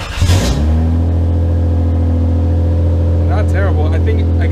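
A Lexus SC300 engine with an aftermarket exhaust and an exhaust leak idles with a deep, throaty rumble after a brief rev at the start, running steadily and loud up close, with faint voices near the end.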